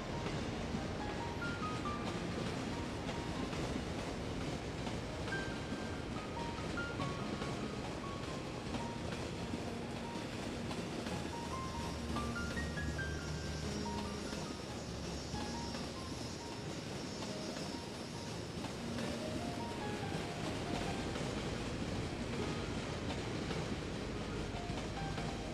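An intercity train rolls past in the city-building game Cities: Skylines, a continuous rumbling wash of rail noise that holds steady and fairly loud for the whole stretch.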